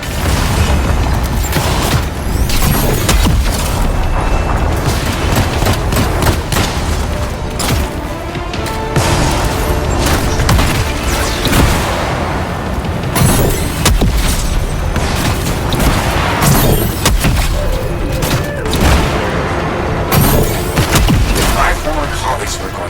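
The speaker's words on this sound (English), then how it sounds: "The crystals are exploding!" Crystals explode in Anthem (update 1.3.0, Xbox One X) in a dense, loud run of booms, crashes and mechanical thuds lasting throughout, while a voice talks over the din.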